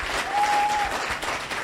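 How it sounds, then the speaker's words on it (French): An audience at a Caribbean Christmas contest applauds a participant, a sustained wash of crowd clapping heard at moderate distance with a brief tonal whistle-like note mixed in. "On applaudit très fort Linda."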